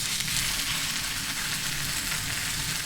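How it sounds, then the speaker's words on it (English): A New York strip steak sears in an outdoor pizza oven, giving a steady, close hiss of sizzling fat that holds an even level from start to end and has no voices over it. "we're gonna let it sear until it releases"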